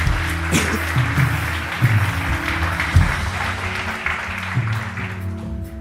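A church congregation claps together in a sustained, steady wash of applause that carries on for several seconds, with tonal music or organ-like sustained notes underneath the whole time.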